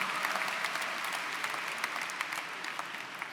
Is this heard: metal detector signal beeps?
no